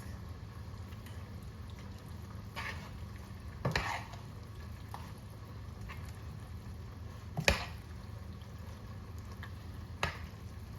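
Vegetables and shrimp are mixed together in a bowl, with soft, steady stirring and scraping and a few louder clinks against the bowl.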